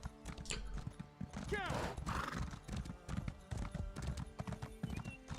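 Quick repeated hoofbeats from a horse being ridden in the video game ESO High Isle, with a neigh early on, layered over game music while a voice talks.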